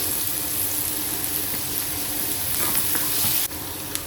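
Finely chopped onions with a little salt frying in ghee for chicken ghee roast, a steady close hiss and crackle throughout with faint stirring.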